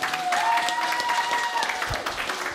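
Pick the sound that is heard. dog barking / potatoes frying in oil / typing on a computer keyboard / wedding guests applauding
wedding guests applauding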